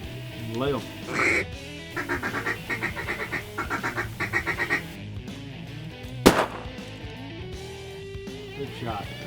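A single loud shotgun blast cracks out at close range during a duck hunt from a blind over decoys, set amid rhythmic bursts of duck quacking and people talking nearby.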